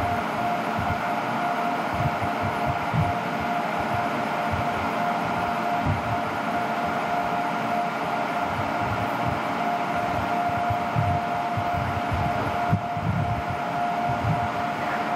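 A UV laser marking machine engraving a design onto red acrylic gives a steady, fairly loud mechanical drone with a fixed tonal whine, running continuously and evenly with no voices.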